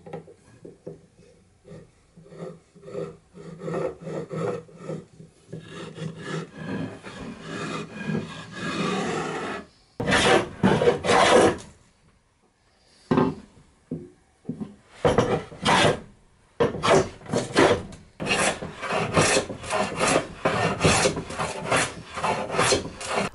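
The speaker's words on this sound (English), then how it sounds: "The back also got smoothed with a spoke shave." A spokeshave smooths the back of a wooden chair's cabriole back leg in repeated rasping, scraping strokes, close and fairly loud, with brief pauses between bursts of cutting.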